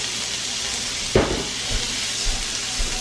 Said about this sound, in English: We're just going to go ahead and throw the mushrooms down in here.